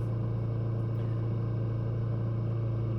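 Kawasaki Vulcan S cruiser motorcycle on the move, its engine giving a steady, low, even drone that carries on without a break. Fairly quiet, with no talk over it.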